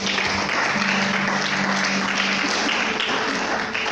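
A church congregation applauding God, a dense, steady wash of clapping from many people sustained throughout at close range, with no clear pauses.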